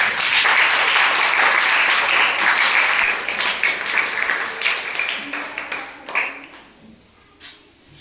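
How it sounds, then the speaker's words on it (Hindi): Loud, sustained applause from a crowd that gradually thins out into scattered claps before fading away. "जोरदार तालियां के साथ"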